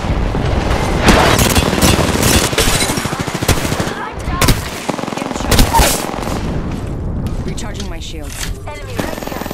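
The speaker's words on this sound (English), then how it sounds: "Get down, airstrike." A battle royale video game firefight erupts with an airstrike: rapid machine-gun bursts, heavy booming impacts and rolling explosions crowd together loudly and close, with voice chat from players talking over the chaos.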